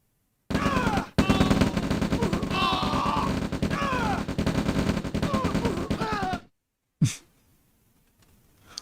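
Rifle fire from infantry units in the strategy game OpenRA Red Alert, heard as dense rapid gunshot bursts that run for several seconds, then cut to silence and a single sharp crack followed by a quiet tail.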